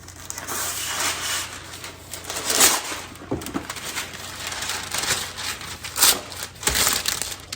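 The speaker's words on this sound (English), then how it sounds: "So, got my baking tray, we're supposed to put parchment on it." Parchment paper is handled on a baking tray, giving close, irregular crinkling and crackling bursts that rise and fall over several seconds with no talking.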